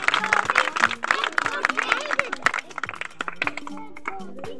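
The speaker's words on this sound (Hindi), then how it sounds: "ताली बजाओ।" Children in a classroom clap their hands together in a burst of scattered applause, loud at first and then thinning out, with a teacher and several children talking over it.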